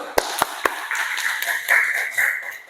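Three sharp claps ring out in a classroom lesson, then scattered applause from a small group of students follows, with a voice speaking over the clapping.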